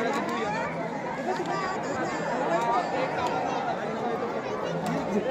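A dense crowd at Ekvira temple in Karla fills the air with steady, close murmuring chatter from many voices, a continuous babble with no pauses.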